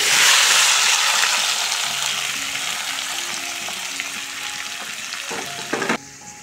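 Chicken pieces hit hot oil for a dry fry, a loud dense sizzle that stays steady with faint stirring and a clatter near the end before dropping off.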